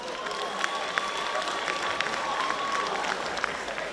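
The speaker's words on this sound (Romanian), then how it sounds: "Un rând de aplauze" Crowd applause at a high school freshman ball in Suceava, Romania, a sustained burst of clapping with scattered louder claps and a faint tone running beneath it.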